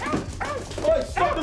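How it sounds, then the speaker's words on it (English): Dog from the film Snatch, yipping and whimpering in short bursts under overlapping voices and film sound, fairly close and moderately loud. "stop the dog!"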